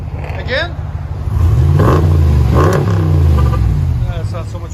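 A RAM 1500 5.7L HEMI V8 running Flowmaster Super 10 exhaust, giving a couple of loud, deep revs that surge and settle, with brief voices talking before and after.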